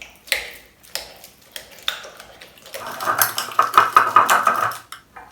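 A utensil beats eggs and quark together in a bowl, giving a few separate clinks at first and then a fast, rhythmic run of scraping and tapping against the bowl, close and clear.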